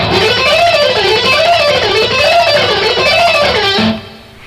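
Electric guitar playing a descending sixths lick that slides back down the neck, a steady run of sustained, overdriven notes in a wavy pattern, loud and alone, ending on a held lower note as the tone drops away.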